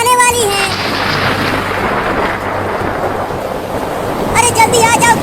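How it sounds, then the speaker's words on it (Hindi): Cartoon thunder rumbles continuously through a rainstorm, a loud, sustained roll with rain hiss throughout and short crackling bursts at the start and end, with no speech. "बादल गरज रहा है और बिजली भी गिर रही है"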